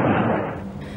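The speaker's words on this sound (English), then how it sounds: "explosions and gunfire reverberated across the city" A single deep boom of artillery fire or an explosion in Kyiv during the Russian attack, loud and broadband, with its rumble fading over about a second.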